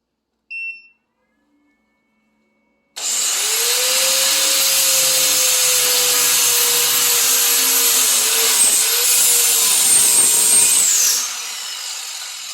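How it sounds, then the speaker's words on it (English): A 7-amp angle grinder powered by a DeWalt DXAEPS14 power station spins up after a short silence, whining loudly while lightly grinding for about eight seconds, then winds down. "So you could do some very, very light grinding with this grinder."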